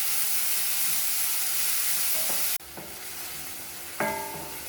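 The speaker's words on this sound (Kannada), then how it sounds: "ಇದನ್ನ ಈಗ ತುಂಬಾ ಚೆನ್ನಾಗಿ ನಾವು ಫ್ರೈ ಮಾಡ್ಕೋಬೇಕು." Chopped onion, green chili and garlic fry for an okra masala in a dense, hissing sizzle that drops briefly partway through, with a few sharp clinks of a stirring spoon against the pan.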